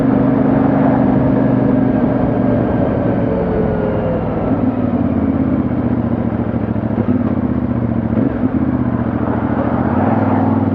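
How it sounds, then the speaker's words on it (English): A CFMOTO 450MT motorcycle riding on a road near Horseshoe Pass, its exhaust giving a loud, steady, mid-pitched engine drone with slight rises and dips in revs, close and continuous with no voices. "Sound from those exhausts is lovely."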